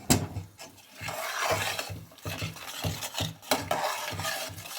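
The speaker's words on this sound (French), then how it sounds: "cette purée de tomates dans ce mélange pour faire ma sauce korma. Donc là, je mélange le tout" Tomato puree is stirred into a korma sauce, rhythmic spoon scrapes against the pan repeating about twice a second over a soft bubbling, no speech.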